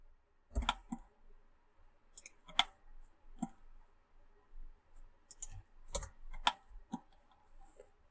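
A computer keyboard and mouse click sporadically during 3D modeling in Blender, sharp close taps in small clusters with quiet gaps between them and no talk.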